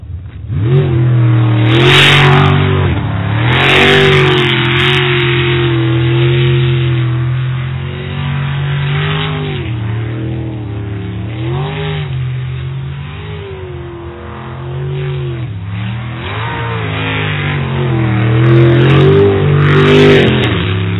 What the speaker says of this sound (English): This is another one of those real fast boats.